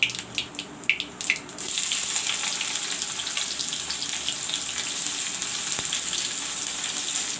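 Chopped onions and green chilies with cumin seeds hit hot oil in a kitchen pan: a few clicks, then a steady, bright, close sizzle that fills the rest of the clip.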